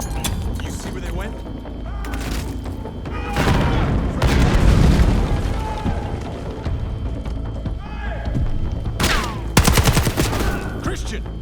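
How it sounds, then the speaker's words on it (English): Heavy gunfire and a booming grenade blast from Call of Duty: Black Ops 6, with sustained bursts of shots, a large explosion mid-way and another sharp crack near the end, under occasional voices. "Grenade out."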